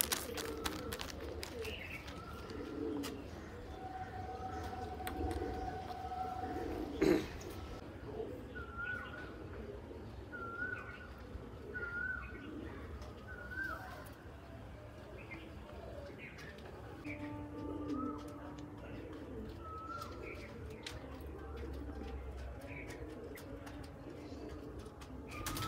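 Giribaj pigeons in a loft give soft, repeated coos throughout, with faint chirps and muffled background voices.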